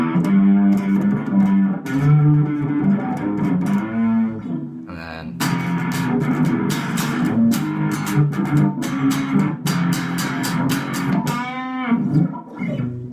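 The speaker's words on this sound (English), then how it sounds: "so with that effect called distortion just distorted my sound" Electric guitar through a distortion pedal: heavily distorted chords and riffs, loud and gritty with sustained buzzing tones, a brief pause midway, then steady strummed playing.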